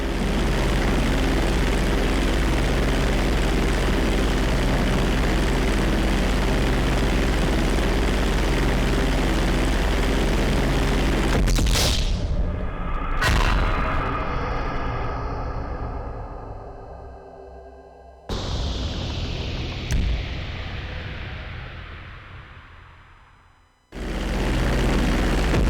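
Propeller airplane at full throttle on a takeoff roll during flight school in GTA 5, a loud steady engine drone that cuts out abruptly, followed by falling whines and sudden jumps back to roaring engine, no voices.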